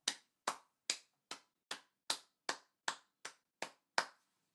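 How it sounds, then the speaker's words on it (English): Eleven sharp, evenly spaced single claps ring out one after another, dry and close, like one person clapping alone rather than a crowd applauding. "Can we get a round of applause for breast cancer survivor?"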